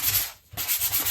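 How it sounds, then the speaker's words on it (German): Rough, scratchy rubbing of 240-grit sandpaper over a wooden walking staff, two continuous strokes separated by a brief pause, close and alone. "Und schleift diese ganzen aufgestandenen Fasern weg."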